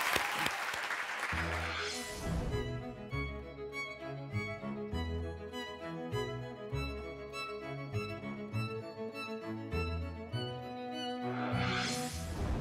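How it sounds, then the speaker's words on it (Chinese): An audience claps steadily to welcome a speaker at a book talk, sustained applause that swells at the start and end, with music running loudly underneath throughout. "请同学们一起用热烈的掌声，"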